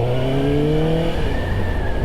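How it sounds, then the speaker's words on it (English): A Suzuki GSX-S750 motorcycle ridden along a road toward the beach, its engine a steady close hum with a slowly rising pitch as it accelerates, wind noise underneath throughout. "Just gonna ride down to the beach here."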